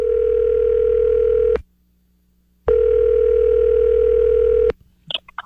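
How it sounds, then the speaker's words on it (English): A telephone dial tone hums loud and steady while a call is placed, breaking off for about a second before returning, then cutting to a few faint clicks. "We're dialing up my wife, Tara, this morning."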